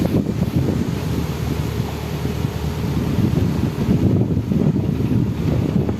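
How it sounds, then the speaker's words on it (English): Wind blowing across a narrowboat cruising the canal near Chirk, loud buffeting rumble against the microphone with gusts rising and falling, no speech. "So the wind's getting up as well."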